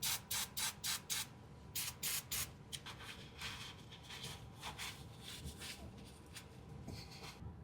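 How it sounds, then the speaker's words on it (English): Brake cleaner sprays onto a vehicle differential in a string of short, hissing aerosol bursts, four or five quick squirts then more, with scuffing and handling noises between them. "Now go ahead and just spray it off with brake cleaner"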